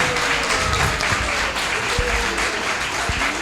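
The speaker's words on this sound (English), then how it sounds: "Give them a round of applause." Audience applause for performers after a diya lamp presentation at Chinmaya Vrindavan, steady dense clapping filling the space throughout, with faint voices underneath.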